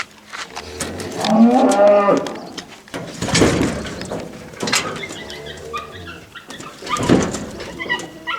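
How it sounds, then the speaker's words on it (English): Cattle on a farm, with a calf that has an infected foot, give several loud, drawn-out moos close by, spaced a few seconds apart, while pigeons coo faintly in the background. "I got cows whining"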